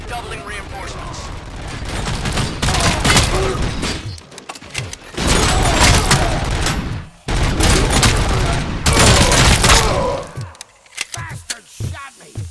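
Bursts of gunfire in the shooter RoboCop: Rogue City at a construction site, loud dense volleys coming in several waves separated by short pauses, with voices shouting in between.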